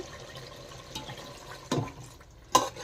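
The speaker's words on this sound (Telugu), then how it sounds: "1 గ్లాసు వాటర్ వేసుకున్నా." Water splashes into a pot of simmering chicken curry, a couple of short loud pours and sloshes over a faint background hiss, close by with brief gaps between.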